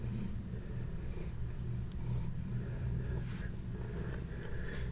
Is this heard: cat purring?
yes